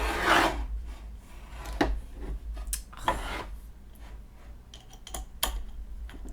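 Small scraping, rasping and ticking sounds of screwing something together while unboxing a cross-stitch gift, close and quiet, in irregular bursts with pauses between.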